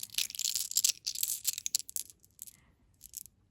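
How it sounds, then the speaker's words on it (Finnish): Small glass strawberry-shaped beads rattle and clink together in quick, quiet bursts of bright clicks, then settle into a few sparse taps near the end. "Sitten tällaisia lasisia mansikkahelmiä."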